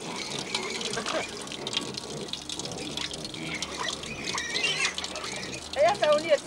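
Tap water runs at a farm, splashing steadily under voices talking nearby, with a few bird chirps near the end.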